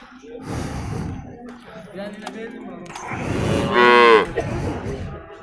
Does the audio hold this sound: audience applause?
no